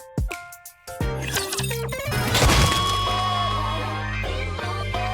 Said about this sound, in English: Why are you smashing up a perfectly good guitar?